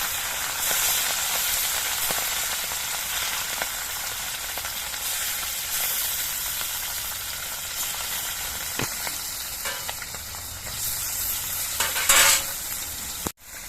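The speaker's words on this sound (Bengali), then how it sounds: "সর্ষের তেলটা গরম হয়ে গেছে এবার অল্প করে কিছু মাছ দিয়ে আমি ভেজে নিচ্ছি" Large puti fish slipped a few at a time into hot mustard oil in a kadai, giving a loud, continuous crackling sizzle with scattered pops and a brief clatter toward the end.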